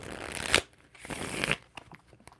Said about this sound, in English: The oracle is the only one I'm going to shuffle.